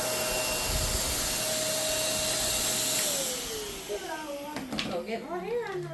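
A vacuum cleaner drones loudly with a steady whine after a haircut at home, then winds down as it is switched off, leaving someone talking over the fading motor.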